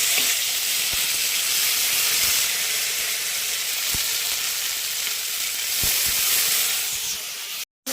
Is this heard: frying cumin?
yes